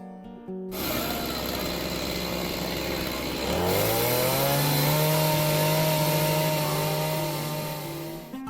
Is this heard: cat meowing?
no